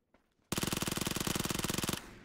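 Rapid automatic gunfire in PUBG, a sustained burst of evenly spaced shots lasting about a second and a half, close and loud, starting and stopping abruptly with no talk over it.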